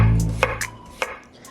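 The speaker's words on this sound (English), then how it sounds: "Now I'm going to cut some cucumbers and apples to put on top." A knife cuts through cucumber and apple on a board, giving two or three crisp, separate chops that stand clear and close. A low hum sits underneath, and nobody speaks.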